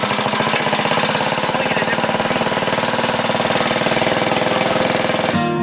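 A go-kart engine runs steadily at close range, a loud, rapid buzzing putter holding one pitch throughout before cutting off abruptly at the end.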